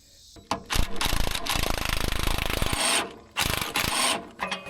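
A hand wrench ratchets during a teardown of a GMC 6.0 engine with 200k miles: a rapid, even run of clicks, then shorter ratcheting bursts and some rubbing and handling noise close by.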